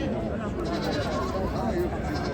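Goats bleat at a livestock and sheep market in Ganja, a few wavering calls close by under a loud crowd of people talking throughout.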